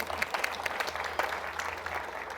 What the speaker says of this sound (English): That's okay, you can applaud for that too.